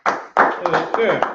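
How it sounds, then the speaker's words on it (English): A small group claps in a class setting: a quick burst of hand claps, with a few sharp separate claps following. A voice speaks briefly over them. "hey, clap it up"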